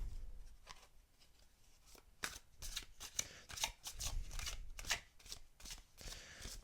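A deck of angel prediction oracle cards shuffled by hand, soft close riffles and flicks in irregular bursts, quiet throughout.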